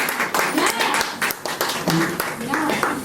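A church congregation at a combined Easter service claps in rhythm, a steady series of sharp hand claps heard close, with a voice talking over the clapping throughout.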